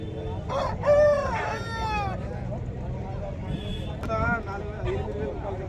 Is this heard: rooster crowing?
yes